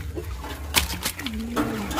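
Chickens in a coop clucking and cooing, close by, with a few sharp calls and a drawn-out low note, alone without talk.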